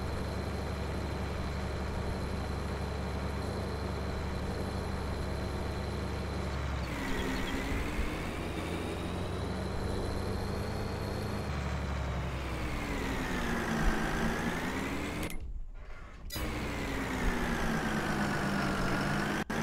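A tractor engine in Farming Simulator 22 labours while the vehicle is stuck, a steady loud drone with rising and falling pitch sweeps as the revs change, with a brief dropout near the end.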